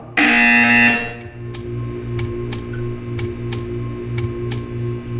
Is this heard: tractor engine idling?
no